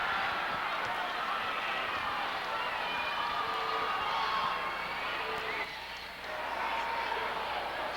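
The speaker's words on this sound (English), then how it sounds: "the crowd is going to go nuts" Dense, steady roar of a packed high school basketball crowd at a championship game, Harding against Central, loud and sustained with a brief dip, then swelling again.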